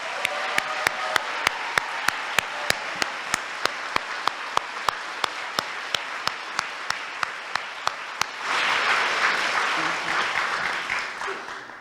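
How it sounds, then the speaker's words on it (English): At a California congressional district candidates' forum, a crisp, evenly spaced run of sharp clicks ticks along for about eight seconds before the crowd breaks into loud, full applause that fills the final few seconds. "Now you can clap."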